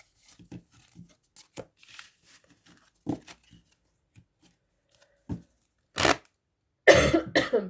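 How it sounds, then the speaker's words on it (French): A woman coughing in short, dry bursts spread across the clip, the strongest two near the end, close and alone, with soft rustling between them. "Pardon, je tousse en ce moment."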